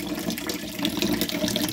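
Water runs steadily from a Multipure Aquaversa water filter into a big bowl or dish pan, a continuous close splashing rush with no pauses.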